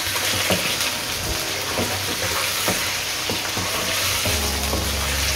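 A kilogram of chicken frying in a pot for chicken pulao sends up a loud, continuous sizzle with intermittent stirring clanks and scrapes, nobody speaking.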